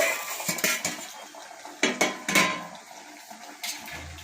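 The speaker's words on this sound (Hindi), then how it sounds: "अब मैं गैस पर बर्तन को चढ़ा दूंगी" A metal cooking pot is set down onto a gas stove burner in a home kitchen while amla are prepared for boiling, giving several sharp, close metallic clanks and scrapes spread over a few seconds with no talking.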